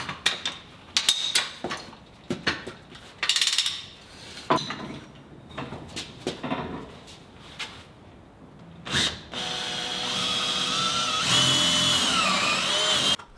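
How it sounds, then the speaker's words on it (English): A power tool drives a 1/2 by 6 inch lag bolt while a 60-inch chandelier is hung, heard as repeated short whirring bursts with clanks between them, then one longer continuous grinding run at the end. "I drove a 1/2 inch by 6 inch lag bolt in on both sides"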